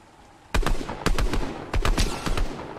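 Gunfire in Fortnite, with sharp loud bursts of several shots in quick rhythmic clusters after a quiet start and no talk.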